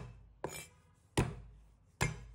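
Three sharp, separate thwacks of a knife blade smashing garlic cloves on a kitchen cutting board, evenly spaced, close and punchy with brief ringing tails and no talking.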